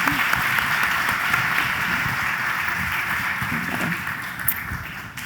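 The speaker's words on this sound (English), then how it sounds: "So please, can we give a round of applause for Vanessa and Deputy Marquito?" Steady applause from a conference audience for speakers at The Ocean Race Summit in Itajaí, a dense, even wash of clapping that holds loud throughout and thins slightly toward the end.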